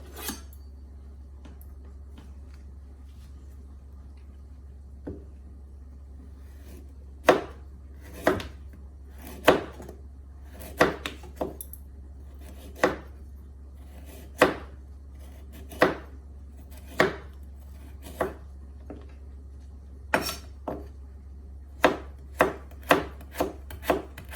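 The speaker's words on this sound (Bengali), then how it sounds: "আমি বিটরুটগুলোকে আমরা বলি বিট অনেকেই বলে বিটরুট সেটাকে আগে কেটে নিব আমি" A knife chops beetroot on a board in sharp, separate strikes. They start sparse, then come more often and quicken into a faster run near the end over a low steady hum.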